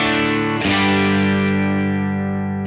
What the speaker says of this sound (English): So this is the sound of the BAD CAT.